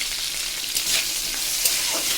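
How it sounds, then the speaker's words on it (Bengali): Steady, dense sizzling of salted potatoes frying in hot oil, a continuous crackling hiss with no voices. "লবণ দিয়ে আমি আলুটাও ভেজে নিচ্ছি"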